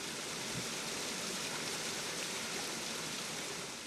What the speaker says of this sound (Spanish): Esta es la catarata Inchitut Naín, ubicada en el pueblo Ahuajún de Santa Rosa